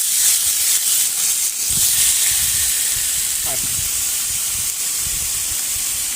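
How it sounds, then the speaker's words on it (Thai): Marinated pork sizzles in a hot pan at a grassland camp on a mountain, giving a loud, continuous hiss with occasional soft thumps as pieces are moved. "ตอนนี้กระทะร้อนได้ที่แล้วนะครับ ผมก็ จะคีบหมูที่ผมหมักไว้"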